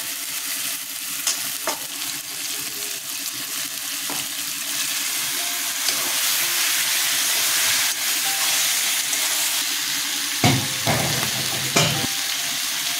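Chicken pieces fry in a pan for lemon chicken, a steady loud sizzle and hiss with a few sharp stirring scrapes and clatters near the end.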